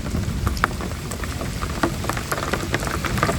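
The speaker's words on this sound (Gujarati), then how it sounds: "લગભગ અડધો કલાક ધોધમાર વરસાદ અમારે પડ્યો અને અત્યારે હાલ પણ ચાલુ હો" Heavy downpour on farmland during a thunderstorm, a loud steady hiss of rain with scattered sharper drop impacts, close and continuous with no voices.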